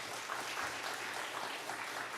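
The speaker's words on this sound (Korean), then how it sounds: "우리 정삼일 선교사님 나오실 때 큰 박수로 환영해 주시기 바랍니다." Soft, distant-sounding applause from a church congregation welcoming a missionary at a Wednesday service, a brief steady patter of clapping.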